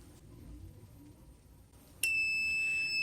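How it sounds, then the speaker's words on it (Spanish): A laser barrier alarm's buzzer switches on abruptly partway through, a steady, loud electronic tone with a high whine that holds to the end, following a quiet stretch of low background hum. "se enciende el LED y también el buzzer se activa"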